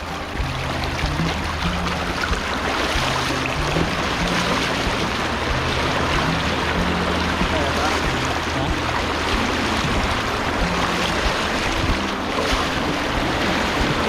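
Loud, steady rush of a flowing river fills the whole clip, broad and continuous with some wind-like roar, no voices.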